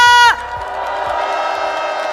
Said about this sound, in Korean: 다시 한번 커다란 박수 부탁드립니다